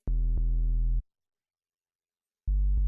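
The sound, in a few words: synthesizer tone with tube distortion drive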